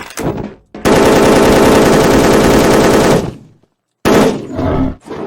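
Loud, close automatic gunfire in the online shooter Wolfteam: a sustained rapid burst of about two seconds, a pause, then more firing and game noise.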